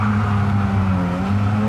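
A 2006 Mazda RX-8 GT with a rotary engine pulls hard from a standstill toward 100 km/h, its loud steady drone and strong low harmonics holding at high revs throughout.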